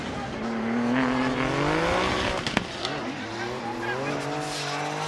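Drift cars at a Formula Drift Japan event, engines roaring with a sustained tire squeal rising and falling across the run, loud and continuous, with a commentator talking over it.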